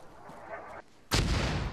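Mortar fire in the military shooter Arma 3: after a quieter stretch of background noise, a sudden loud, close blast erupts and rumbles on for the rest of the moment.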